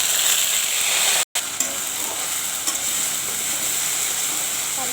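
Green chili and onion paste sizzles in hot mustard oil in a kadai with dry red chili and bay leaf, a steady close hiss with stirring scrapes and one brief cut-out.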